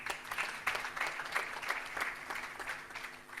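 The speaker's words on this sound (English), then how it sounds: "Would you please give him a hand of applause?" Clapping from a seated audience at a panel on forgiveness and a book launch, a fairly quiet, steady patter of hands with distinct individual claps, somewhat distant.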